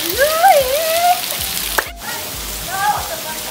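Heavy rain during a storm hisses and patters steadily on pavement and nearby surfaces, close and continuous, while a voice sings or calls out briefly over it at the start and again near the end.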